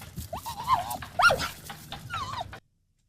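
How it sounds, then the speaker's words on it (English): Recorded dog barks and yips played back from a device, several uneven close calls with varied pitch, while a person talks quietly underneath, cutting off abruptly before the end. "you were playing the sound of a dog"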